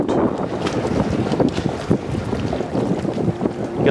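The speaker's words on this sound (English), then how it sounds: "the wind is blowing me sort of like this. And the wind speed is almost 10 knots" Wind of nearly 10 knots buffets the microphone aboard a Jeanneau 51 sailing yacht, a loud, continuous rushing roar with gusty fluctuations and faint water noise underneath.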